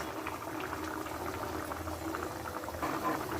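Curry gravy for a pointed gourd dish simmers in a pot, a soft, even bubbling close by with no other sounds.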